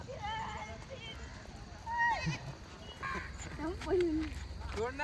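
A few goats bleat at a distance, short wavering cries spread across the clip, with low rumbling background noise and some voices nearby.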